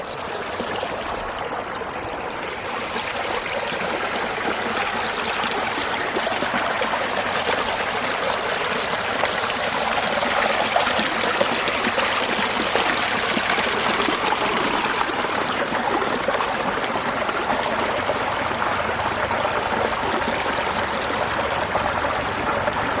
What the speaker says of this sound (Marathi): सर्व पाणी या नदी पात्रामध्ये जात आहे.